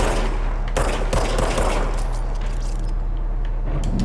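Rapid bursts of gunfire from a service weapon in the video game Control crack out in quick repeated volleys over a constant low rumble, loud and close, with no talking.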